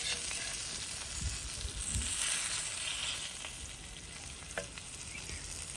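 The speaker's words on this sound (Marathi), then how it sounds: "मस्त सोनेरी रंग येईपर्यंत आपल्याला फ्राय करायचे मासा व्यवस्थित" Stuffed, coated pomfret fish fries on a tawa, a loud, dense, steady sizzle close up with a few faint scrapes, and no voices.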